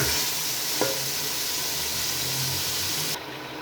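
Chicken pieces marinated in spices fry in a pan for kaddu gosht, giving a steady close sizzle with faint stirring scrapes and no talk.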